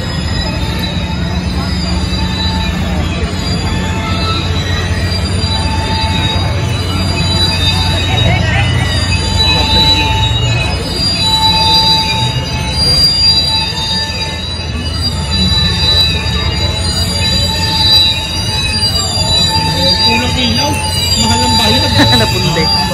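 Wheels of the CPKC Holiday Train squeal loudly and continuously as the train passes close by in Canada, with steady rail rumble underneath and people talking over it.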